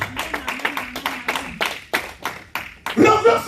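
A church congregation claps in rhythmic bursts during an evangelistic service, a steady run of near, fairly loud hand claps ending in a swell of louder applause and voices.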